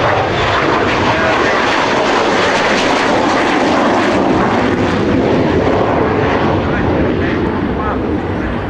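Blackburn Buccaneer jet, a British naval strike aircraft, flying low and slow at the Biggin Hill Air Fair in 1993, producing a loud, continuous broadband engine roar that holds steady throughout.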